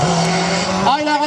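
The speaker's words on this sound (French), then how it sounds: "Ah, il a raté une vitesse." Hill climb race car at the 2018 Percy course de côte, its engine note sagging and then surging back as a gear change is missed, loud and close, with a commentator's voice running underneath.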